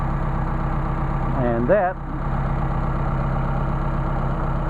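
An engine fitted with Solex 44PHH carburetors idles steadily at about 900 rpm, a close, even rumble that runs throughout while someone talks briefly over it.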